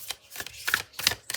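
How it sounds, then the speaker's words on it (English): A handmade tarot card deck is shuffled by hand, giving a few soft, quick rustling and slapping bursts of cards in an uneven rhythm, close and fairly quiet, with no talking. "It's easy to shuffle."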